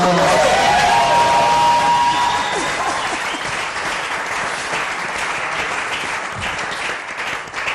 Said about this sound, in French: Est-ce qu'on peut acclamer encore maintenant?